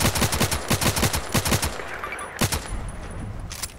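Rapid bursts of gunfire from the video game Contract Wars, played in hardcore mode, crackle loudly in quick strings of shots with a short pause, then a few more cracks and a final burst.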